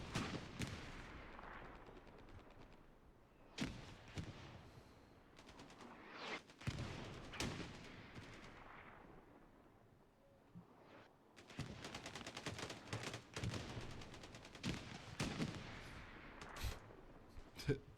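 Tank and artillery fire in a video game battle over a bridge rumbles and crackles throughout, with bursts of gunfire and heavy blasts growing denser near the end beneath a commentator's talk.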